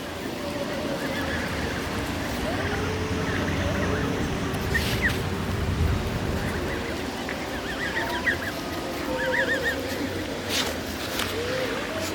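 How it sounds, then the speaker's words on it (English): Geese and young goslings in a park give scattered soft honks and chirping calls over a constant outdoor background hum, fairly close but not loud, with occasional rustles nearby. "Got some little geese here."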